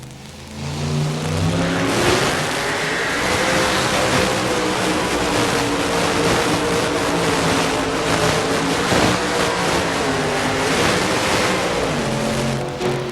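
A 1923 Ford two-wheel-drive pulling truck with a Keith Black Hemi engine at a truck pull in Louisville, Kentucky, roaring loud and continuous at full throttle with a gritty, rising engine howl.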